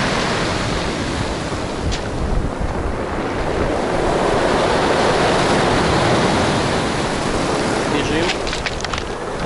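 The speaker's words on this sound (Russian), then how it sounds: "Ух, какая волна идет." Stormy Black Sea surf at a Lazarevskoye beach in Sochi, a continuous roar of breaking waves swelling and receding with strong wind buffeting the microphone, and faint voices.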